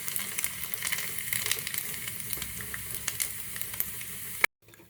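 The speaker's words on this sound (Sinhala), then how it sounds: "හාල්මැස් ටික මෙන්න මේ ගානට බැදුනහම ඇති." Dried sprats frying in hot oil give a dense, steady crackling sizzle with fine popping throughout, close and moderately loud, cutting off abruptly near the end.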